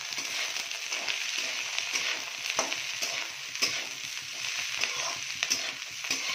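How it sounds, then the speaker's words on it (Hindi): Potatoes and beans fry on a high flame, a steady loud sizzle with scraping spoon strokes as they are stirred in the pan, close and without talk. "देख सकते हैं तेज फ्लेम पे मैं इसको फ्राई कर रही"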